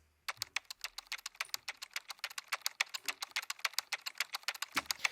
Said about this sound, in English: This is a sample of typing.